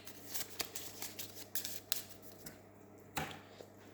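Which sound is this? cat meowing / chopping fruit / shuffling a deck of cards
shuffling a deck of cards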